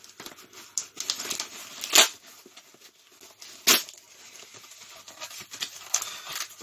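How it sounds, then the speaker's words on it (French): Cardboard of a parcel holding a Super Nintendo game being cut and torn open, with scratchy crinkling and rustling and two sharp louder tearing rips, close and alone. "On va couper clairement le carton."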